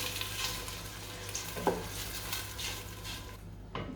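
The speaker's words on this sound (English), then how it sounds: "give it a good mix" Lamb and spinach curry being stirred in ghee in a pan over turned-down heat, a steady sizzle with scraping and a sharp clink of the utensil against the pan partway through.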